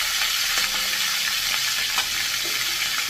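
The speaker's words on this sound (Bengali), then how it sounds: "তো মাছের মাথাটা আমি ভেজে নিচ্ছি" A large fish head fries in hot oil in a home kitchen, giving a steady, dense sizzle throughout with occasional soft stirring scrapes; no one speaks.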